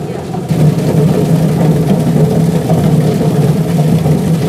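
An electric peeling machine that strips skins runs with a continuous droning motor hum and a rattling, churning texture, loud and close, holding steady throughout.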